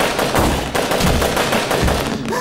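Rapid, loud, continuous automatic gunfire in the Resident Evil 6 video game, dense overlapping shots filling the whole moment with no speech.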